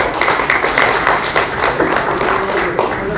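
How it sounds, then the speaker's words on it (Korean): An audience claps for a keynote speaker at a political debate forum in a press center hall, giving a dense, steady run of hand claps at moderate loudness without any voices. "큰 박수 부탁드리겠습니다"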